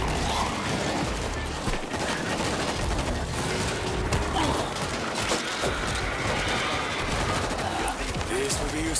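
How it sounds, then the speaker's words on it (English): Mounted machine gun firing in a zombie shooter game set in Tokyo, a continuous loud rattle of rapid shots layered with crashes and game noise, steady and unbroken throughout. "Machine gun is ready!"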